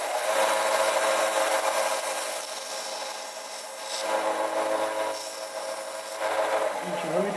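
Wood being sanded in a workshop with a scroll saw and vacuum hose nearby, a steady harsh rubbing hiss that swells and eases in strokes, close and continuous.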